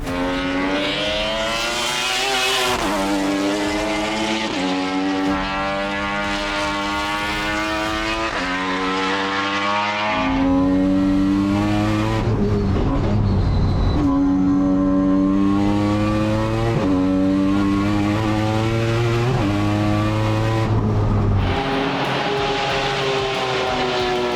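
A triple-rotor Mazda FD RX-7 race car engine revs hard through repeated rising gear pulls, with shrill buzzing harmonics, brief drops at each shift and a louder, deeper passage midway, loud and close with no talking.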